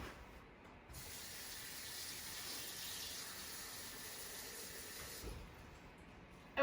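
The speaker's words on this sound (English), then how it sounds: "you want to put enough water just to cover the cauliflower" Water running into a container of cauliflower florets, a steady soft hissing gush that starts abruptly, flows evenly for several seconds and stops, fairly faint and with no talking.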